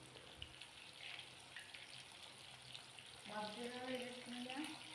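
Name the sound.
chicken coated in cornflour frying in hot oil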